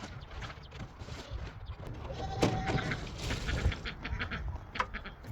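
Ducks on a farm with a new low-mess waterer and a bucket pool, quacking and bleating in a busy, steady mix close by, with a sharper call near the middle and livestock noise throughout.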